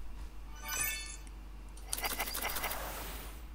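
A golden eagle flies out in a mobile game as a prize-draw reveal, with a bright chiming burst followed by a fluttering, shimmering rush of wing-like sound, close and fairly loud, with no talking.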